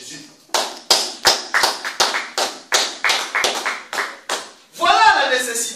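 A church congregation claps in unison to acclaim Jesus, about a dozen sharp, loud, evenly spaced claps in a steady rhythm, ending in a swell of cheering voices.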